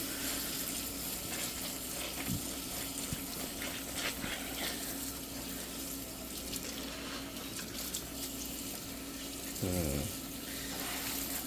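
A Scrub Daddy sponge is rinsed of greasy residue under a running tap, giving a steady hiss of flowing water with squishy wringing noises and a brief louder splash near the end.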